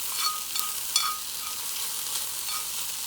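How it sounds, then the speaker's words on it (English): Onions and carrots sizzle in a frying pan with a steady hiss and a few faint stirring clicks, close and moderately quiet, with no talking. "I have the onions going in the pan. You might hear it sizzling."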